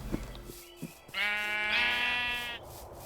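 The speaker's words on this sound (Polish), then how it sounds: "Owca." A sheep in the video game Minecraft gives one drawn-out, wavering bleat lasting over a second, heard clearly and fairly close after a few faint soft clicks.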